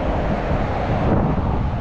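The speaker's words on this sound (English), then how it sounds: "Still windy, just as windy." Heavy wind buffets the microphone in a constant low roar, loud and unbroken, with no voices.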